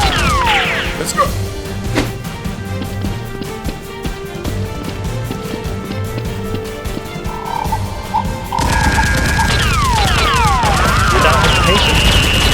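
Nerf guns fire in a mock battle as a boss and henchmen shoot down from upstairs, with rapid cracks and smacks dense over music throughout and growing louder and busier in the last few seconds.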